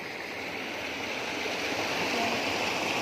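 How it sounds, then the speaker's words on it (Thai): A mountain forest waterfall and stream rush in a loud, steady, unbroken roar close by, with no talking. "เสียงน้ำตกจอกจอก อันนี้เราอยู่ในป่าในเขานะครับผม"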